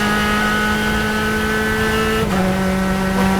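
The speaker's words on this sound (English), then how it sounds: "They're coming down the front stretch here, across the start finish line." Spec Miata race cars roar past on the front stretch at NJMP, a loud sustained engine drone with a pitch drop midway as they pass close by, no voices.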